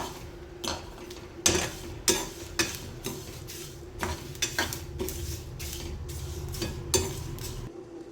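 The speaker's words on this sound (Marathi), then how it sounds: "मस्त 2 मिनिटासाठी भाजून घेऊया. जास्त जाळायचं पण नाही, नाहीतर भाजीची चव बिघडेल, मसाला कडू होईल." Masala spices dry-roast in a pan while a spoon stirs them, giving irregular metallic scrapes and clinks over a low, steady background, fairly quiet and with no talk.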